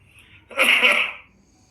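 A single harsh cough, close and brief, in otherwise quiet surroundings.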